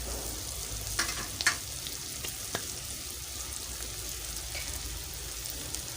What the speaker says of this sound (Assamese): এয়া অকণমান ভাজিব দিওঁ।